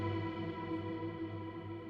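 A sustained, shimmering reverb drone from a Raum reverb plugin's freeze function hangs without decay, layered tones smeared into a frozen, static wash with a faint warbling texture.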